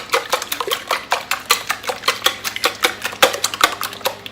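Eggs beaten briskly in a bowl, a fast regular clatter of utensil against the bowl, close and loud, without speech.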